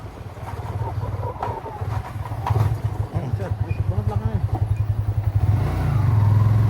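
A Yamaha Fino scooter engine rumbles and revs on a test ride after a major overhaul, a steady pulsing putter rising toward the end, with voices talking over it.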